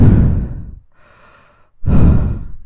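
Two heavy, close breaths blow straight into a Blue Snowball Ice microphone with no pop filter, each a loud rushing exhale separated by a quieter, airy inhale.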